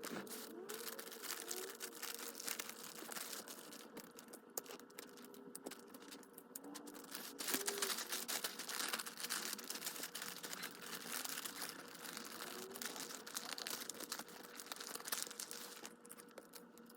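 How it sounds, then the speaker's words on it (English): Wrapping paper crinkling and rustling steadily while gifts are wrapped indoors, a continuous close, fairly quiet papery crackle with brief louder bursts, no talking. "I didn't realize how loud the wrapping paper was going to be"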